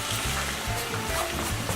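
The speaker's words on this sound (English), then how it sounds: "Hear that sizzle?" Onion frying in a generous pool of olive oil gives a steady, soft crackling sizzle, continuous and close for a brief moment.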